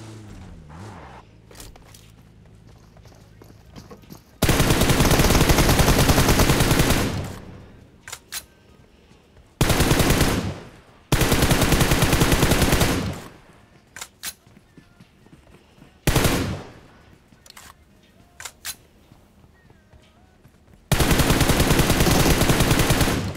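Bursts of rapid automatic gunfire from a mobile shooter video game played with an M24 sniper rifle. Long loud sustained volleys are broken by short pauses with fainter shots and footsteps in between.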